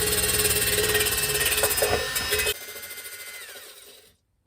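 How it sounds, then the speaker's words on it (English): A cordless drill fitted with a wire wheel grinds paint off a motorcycle gas tank, loud and close with a rough, whirring buzz and scraping chatter, then it slows, drops in pitch and winds down to silence. "now I'm just gonna be tearing this sucker up with this wire wheel"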